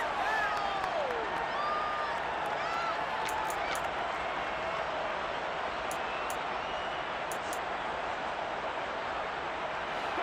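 A stadium crowd in the Madden NFL 23 football video game roars and applauds in a steady, dense wash of cheering that holds at an even level for the whole stretch ahead of a big third down.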